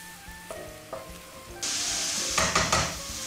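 Vegetables, pancetta and a sprig of rosemary fry over low heat in a pan, a steady sizzle with a few utensil clinks and stirring scrapes that grows louder partway through.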